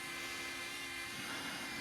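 A small DJI Flip drone hovering, a steady high-pitched propeller whine with a constant tonal hum, faint and continuous throughout.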